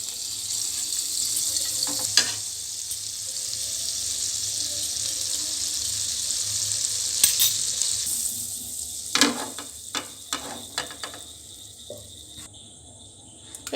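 A spoon of white oil and a cube of butter sizzle in a pan, a soft, steady hiss that thins out near the end, punctuated by a few clinks and knocks of utensils.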